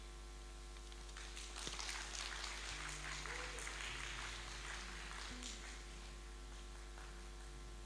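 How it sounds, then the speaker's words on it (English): Applause from the audience at a university launch event for centres of excellence and institutes, a steady broad patter of clapping filling most of the clip over a constant electrical hum, easing off toward the end. "I think he also deserves another round of applause."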